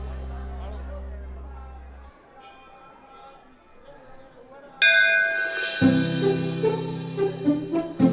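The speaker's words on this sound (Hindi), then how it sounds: "सिर्फ घंटी तो बजाई?" A temple bell is rung, giving a bright metallic peal with lingering ringing tones near the end of the clip, after a quieter stretch of background murmur and voices.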